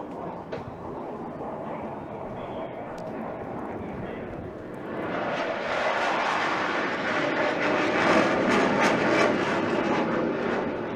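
Saab J-35 Draken jet flying past on afterburner, a broad roar that builds from a distant rumble into a loud, harsh close pass.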